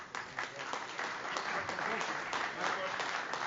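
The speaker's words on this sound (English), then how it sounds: "We've got a second round of claps" Audience at a cybersecurity talk applauding, a steady, fairly faint round of clapping lasting the whole stretch without a break.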